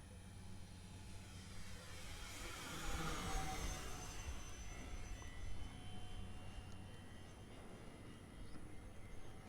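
A radio-controlled model jet flying past with a rising and falling engine whine, swelling as it passes nearby and then easing, steady in the background without talk.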